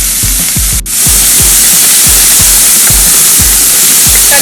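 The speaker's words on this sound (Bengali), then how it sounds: "এগুলো অল্প ভাজলেই হবে।" Mushrooms fry in a pan for crispy chilli mushroom, with a loud, close, constant hiss over a regular run of low thumps that briefly dips partway through.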